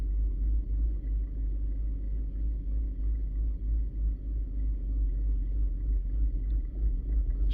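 2014 Chevy Equinox idling in drive while stopped, a deep, steady low rumble with a shaking vibration, heard from inside the vehicle and continuous throughout.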